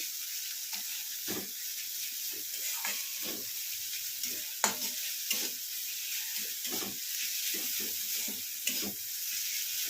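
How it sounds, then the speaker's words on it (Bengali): Steady sizzling of bitter gourd frying in a pan over high heat, with intermittent scraping and stirring strokes throughout; no voices. "এটাকে এবার ভাজা ভাজা করে নেবো একদম"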